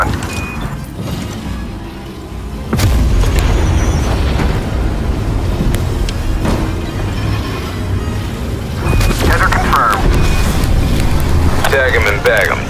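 In Call of Duty Cold War multiplayer on the Alpine map, a weapon fires with heavy booming explosions and rumbling blasts, loud and close, with bursts returning near the end.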